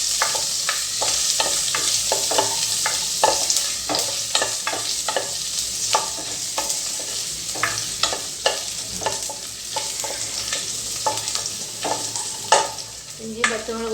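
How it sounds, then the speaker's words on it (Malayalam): Chopped ginger and green chilies fry in hot oil with a bright, constant sizzle, punctuated by a steady run of sharp stirring clicks and scrapes against the pan, close up, no talking. "ഇനി അതിലേക്ക് ചെറുതായി അരിഞ്ഞ ഇഞ്ചിയും പച്ചമുളകും ചേർത്ത് കൊടുക്കാം."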